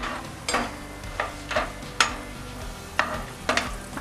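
Cashews and almonds fry in hot ghee for suji halwa, with a soft steady sizzle under a series of sharp stirring scrapes spaced about half a second apart, close by.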